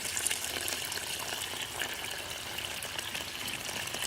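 Water gushes steadily into 5-gallon buckets being filled nearly to the top to make stinging nettle liquid fertilizer, a continuous close rushing splash with no pauses.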